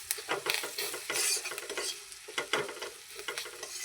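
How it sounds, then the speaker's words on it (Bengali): Grated ginger fries in oil while a spoon stirs it around the pan, giving close scraping strokes and clinks over a soft sizzle in an uneven rhythm. "এবার এটাকে ভালোভাবে নেড়ে চেড়ে নেব।"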